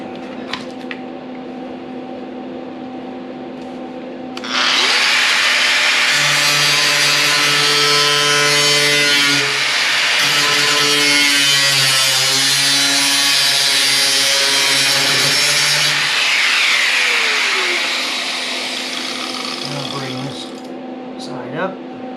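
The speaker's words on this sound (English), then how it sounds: "I think I can leave this tack weld, take these two out, run the blade through there" A power saw blade cuts through the running board of a 1941 Lincoln Zephyr, starting abruptly with a loud, steady whine whose pitch wavers, then dying away after about fifteen seconds over a constant low hum.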